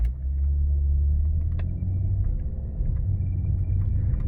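A 2006 Hyundai Equus 3.3 with a misfire pulls away from a stop, its engine giving a deep, uneven rumble with a steady low drone throughout. It is close and loud with no speech.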